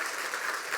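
A church congregation at a Sunday worship service claps together, a short, soft, steady wash of applause heard from some distance.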